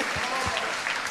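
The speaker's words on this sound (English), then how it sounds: "give her a round of applause" Brief burst of audience applause in a live podcast setting, dense broadband clapping with a voice briefly underneath, lasting about a second.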